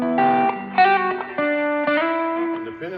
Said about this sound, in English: I could take the knob and really put it into full distortion mode, but it's just kind of a nice rumble